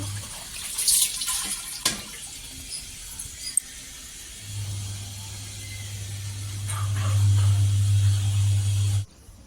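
Water runs from a tap into a container, a low steady rush that swells over several seconds, then cuts off abruptly.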